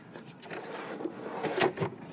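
A slide-out tool drawer in the garage of an ambulance converted into a tiny home rolls open and shut, giving a sequence of close wooden and metallic clunks and sliding rattles with a louder knock near the end.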